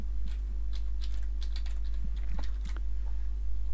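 Quick bursts of computer keyboard keystrokes, irregular close clicks and taps in short runs over a steady low electrical hum.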